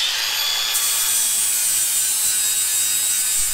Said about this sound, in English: I'm going to polish this weld